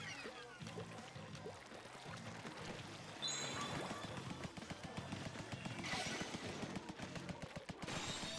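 Splattershot Pro ink gun firing in Splatoon, a rapid wet spattering burst of shots that grows louder midway, mixed with game sound effects and music.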